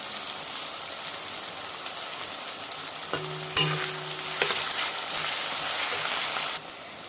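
Onions fry in ghee with a soft, steady sizzle, and a stirring clink cuts in about halfway through before the gentle crackle continues quietly.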